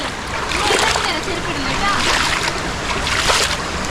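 Water splashing and rushing at the Baba Dhansar waterfall, a loud, continuous broadband roar with splashy bursts heard up close while a person talks over it.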